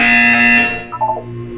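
Buzzer from the video game Portal 2: a loud, harsh electronic buzz held for about a second, then cutting off into a few brief, fainter tonal blips.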